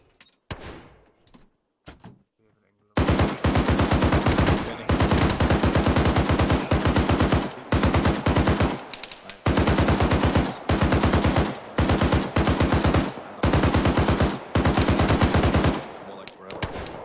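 A .50 caliber heavy machine gun fires in a military simulation video game. Long, loud, rapid bursts hammer steadily, separated by short gaps, and start after a few quieter seconds with a faint thump.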